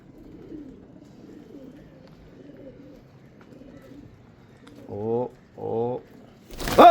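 Soft, low cooing of Israeli pigeons murmurs in the background, then two louder throaty coos close up, followed by a sudden sharp rustle.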